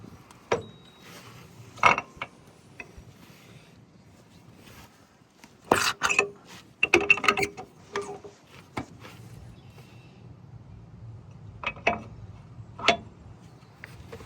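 Metal clanks and clicks come from switching a tractor's PTO shaft over from 540 to 1000. The knocks and taps are sparse and irregular and sit close by, with bunched rattles partway through and no talk.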